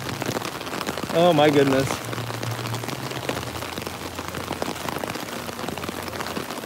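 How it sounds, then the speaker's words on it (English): Steady rain pattering and hissing at Disney's Animal Kingdom theme park, a dense, continuous wash close by, with a brief exclaiming voice and a short tonal sound near the start. "before all of this rain today"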